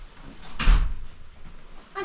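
An apartment building door swinging open and shutting with one loud thud partway through, followed by quieter shuffling and a faint voice at the end.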